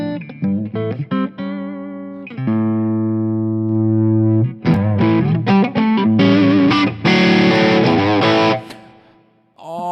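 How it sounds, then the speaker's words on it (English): Electric guitar through an Axe-FX III light-gain drive: picked single notes, then sustained ringing notes and chords with mild crunchy distortion, played loud and alone. "distortion, light gain drive, because you can use your playing to change the dynamic, to change the distortion."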